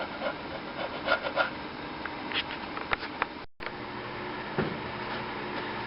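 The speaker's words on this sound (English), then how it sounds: "slowly rasp them down with my rasp and take my time with it" A hand wood rasp shapes the hull of a wooden model sailboat in short, scraping strokes, quiet and close, with brief pauses between passes and no talk.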